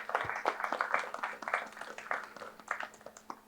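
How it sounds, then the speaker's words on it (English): Scattered clapping from a seminar audience, a fairly sparse round of individual claps with uneven rhythm, moderately close and not very loud, gradually thinning out toward the end. "Can we have a round of applause for Mr."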